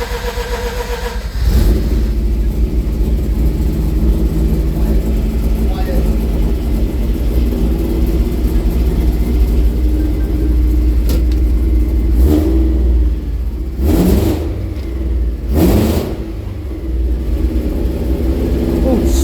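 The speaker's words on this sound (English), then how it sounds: "Right, let's start it up." A Mazda B2200 pickup with a 13B rotary engine swap and custom exhaust cranks and fires, then settles into a loud, rough, buzzy idle with several sharp revs near the end, close up, with people talking over it.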